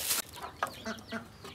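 Hens clucking close by in a yard, a few separate short clucks in an irregular rhythm, moderately loud, after a brief burst of noise at the start, with no speech.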